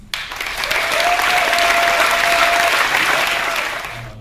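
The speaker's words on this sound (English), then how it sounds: "Please give him a round of applause" Steady applause from an opening-ceremony audience at the 2013 IYPT physics tournament in Taiwan, rising quickly, holding loud and even for about three seconds, then fading out alone with no talk over it.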